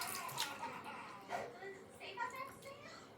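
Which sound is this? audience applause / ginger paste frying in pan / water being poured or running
water being poured or running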